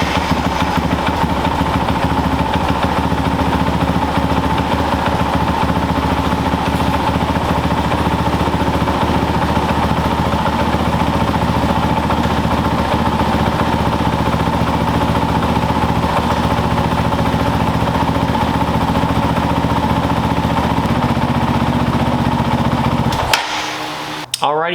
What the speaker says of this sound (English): let's start up the bike, let it run for just a minute or so